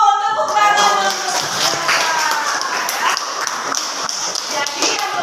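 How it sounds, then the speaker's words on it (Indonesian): A classroom of pupils applauds together with a steady flurry of hand claps that keeps going for several seconds, loud and close, while voices mingle beneath the clapping. "Tepuk tangan untuk"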